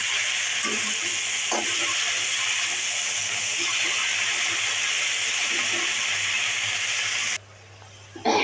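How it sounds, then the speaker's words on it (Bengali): Fenugreek leaves fry with panch phoron and green chilli in a pan, giving a steady close sizzle with occasional stirring scrapes; the frying cuts out briefly near the end. "এরকম মেথি শাকটা 5 ফোড়ন দিয়ে ভাজছি।"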